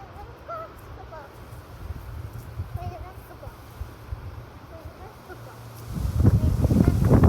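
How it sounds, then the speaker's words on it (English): Wind gusts in Medicine Hat, Alberta, rumble steadily across an outdoor microphone and build into a louder, rougher blast near the end, with faint birds in the background. "Oh, windy."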